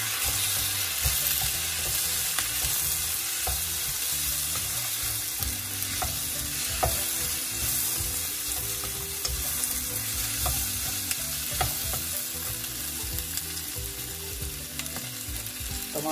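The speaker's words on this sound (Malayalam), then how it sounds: "ഇത് നല്ലപോലെ മിക്സ് ചെയ്ത് കൊടുക്കാം" Chicken pieces with salt being stirred in a frying pan, a continuous dense sizzle with frequent scraping of the spoon against the pan, steady and close throughout without any voices.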